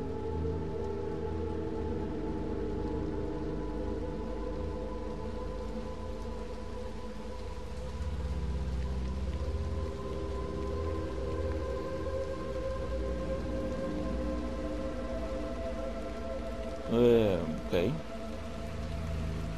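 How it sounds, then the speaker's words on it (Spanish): Heavy rain in the video game Little Nightmares 2 hisses steadily throughout, joined by a low hum and a brief warbling sound near the end; no clear talking. "Bastante fuerte la lluvia."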